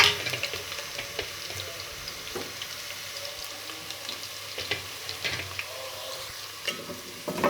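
Thinly sliced garlic sizzles in hot oil with browned onions for a saag dish, a continuous crackling fry broken by occasional stirring scrapes, close and steady.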